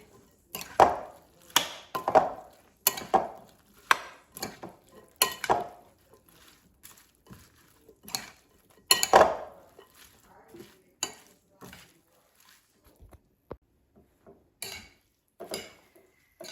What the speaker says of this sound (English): And now all we have left is just to toss the salad. So let's mix it until combined.